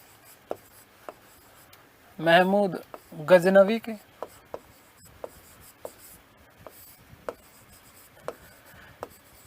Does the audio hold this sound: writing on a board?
yes